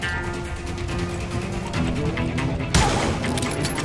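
Rapid burst of gunfire in the Wild West shooter Call of Juarez Gunslinger, a string of close, sharp shots ending in a louder blast, with game music and someone speaking over it.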